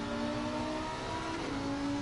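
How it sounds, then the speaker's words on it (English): A Lamborghini GT3 race car engine in Assetto Corsa Competizione at Kyalami holds a steady, droning mid-revving note with a whirring tone, heard alone for two seconds. "I'm very partial to the engine note of the Lamborghini."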